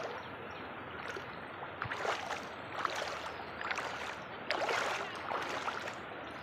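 Strong rainwater rushes through a village in a continuous loud, broadband wash with gurgling swells, steady throughout with no pauses.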